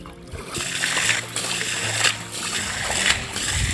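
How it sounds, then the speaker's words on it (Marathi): Water is scooped by hand out of a small pond pool during fishing, producing repeated splashing and sloshing strokes at a fairly steady rhythm, close and moderately loud. "चला पटापट आता या डॉमधलं पाणी उपसून घेऊया"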